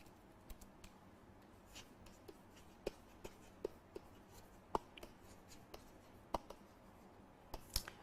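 A teacher writes out an explanation, with scattered faint taps and scratches of marker or chalk on a board in an irregular rhythm, quiet and close, without any speech.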